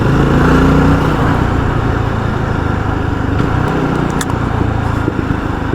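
A Jawa 42 FJ motorcycle engine and exhaust revving: a loud, close, continuous throaty drone that holds steady for nearly six seconds, with slight swells in pitch and no talking over it.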